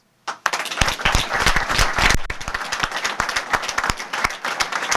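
Loud, thunderous crowd applause erupts after a brief silence and stays dense and sustained to the end, offered as a thank-you to Džoko, a performer who died on stage.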